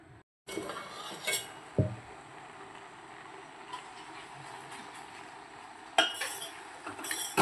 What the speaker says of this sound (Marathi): आता आपण यावर झाकण ठेवून शिजू देऊया।